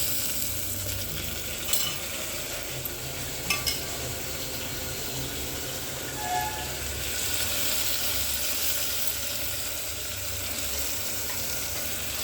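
Food being stirred and mixed in a frying pan, with a steady frying sizzle running throughout and occasional light scrapes and clinks of the utensil against the pan.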